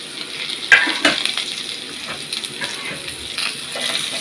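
Potatoes with green chilies and chopped onions sizzling and frying in a pan, a steady close crackle with occasional stirring scrapes and clinks, no voices.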